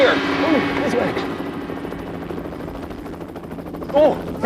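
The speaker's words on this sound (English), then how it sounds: "I think the helicopter's about to land!" A helicopter preparing to land, its steady rotor chop and engine whine running throughout at moderate loudness, with a brief louder swell near the end.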